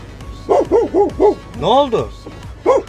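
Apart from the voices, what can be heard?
dog barking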